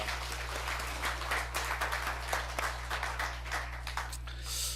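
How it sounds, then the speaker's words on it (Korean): Church congregation at a Sunday morning worship service claps in encouragement for the choir, a modest, fairly faint patter of scattered hands over a steady low hum, lasting throughout. "우리 다시 한번 격려의 박수를 한번 보내겠습니다"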